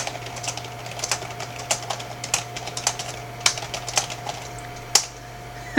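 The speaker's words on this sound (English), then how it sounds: "Typing like the wind." Rapid, uneven typing on a computer keyboard, close and clear, with clustered keystrokes and a few louder key hits over a steady low background hum.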